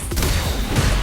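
A drive impact attack being blocked in Street Fighter 6 during a Chun-Li match: a dense, loud, crunching impact burst with a second heavy hit near the end, filling the whole short moment.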